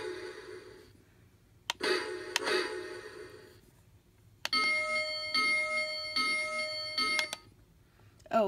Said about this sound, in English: if you press the bell, you have to press it again for it to stop